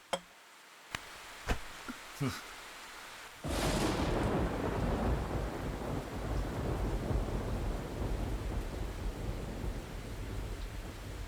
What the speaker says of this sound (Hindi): अरे बाहर इतनी बारिश हो रही है